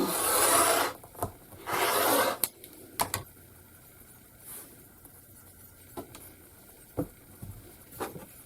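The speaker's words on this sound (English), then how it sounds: "Ruler in position and then put the weight on it. Trim away." Quilt fabric is trimmed along a weighted ruler. Two close, short rasping strokes are followed by soft scattered clicks and taps.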